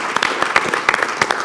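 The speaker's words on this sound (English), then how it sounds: "We'll just give Chris a round of applause then." Short burst of audience applause at a company partner-day closing keynote: many hands clapping in a dense, uneven patter that swells and dips over a second and a half, with no speech.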